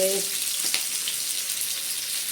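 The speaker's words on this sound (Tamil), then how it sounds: "மீன் பொரிக்கிறது கொஞ்ச நேரத்தில் மீன் பொரிஞ்சிடும்" Ayla fish (kanangkathi) frying in hot oil, a steady close hiss and crackle of sizzling throughout, with a brief soft tonal clink at the start.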